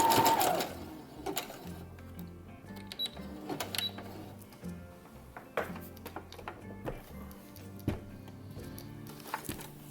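A wobbling sewing machine stitches a pocket onto a Star Wars jumpsuit. Its quiet, close rhythmic whirring comes in short runs, broken by clicks and thunks between the stitching bursts.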